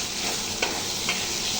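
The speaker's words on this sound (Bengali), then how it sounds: "ওখানে আমি মাংসটা দেওয়ার জন্য মশলাগুলো কষিয়ে নিলাম।" Spices being fried and stirred in a pan before meat is added, a steady close sizzle with two brief scraping stirs of a spoon.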